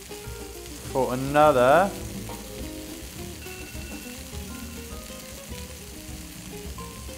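Chicken burger patties fry in a pan, a constant close sizzle under brief talk, with a short squeaky scrape as they are turned partway through.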